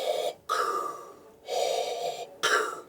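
A human voice imitates Darth Vader's mechanical breathing, alternating long raspy inhales and exhales in a slow steady rhythm, close and fairly loud with brief silent gaps between breaths.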